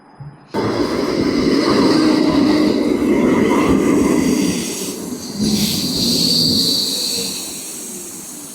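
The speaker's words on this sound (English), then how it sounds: "time to ride the tram for a few stops" A tram in Belgium rolls along rails with a steady low rumble and hiss, loud and close, brief squeals and rattles rising over the continuous rolling noise.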